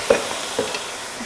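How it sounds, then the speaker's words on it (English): Onions sauté in a pan with brown sugar and dried cranberries for red onion marmalade, a soft close sizzle broken by a few stirring scrapes and clinks. "We're gonna saute these until the onion gets transparent."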